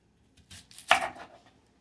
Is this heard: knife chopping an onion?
yes